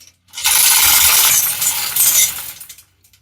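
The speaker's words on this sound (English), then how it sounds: "Now we're going to hook it into our chain hoist and start lifting it up" Chain hoist lifting an engine on an engine leveler, a close burst of rattling metal chain links and ratcheting clanks lasting about two seconds, then stopping.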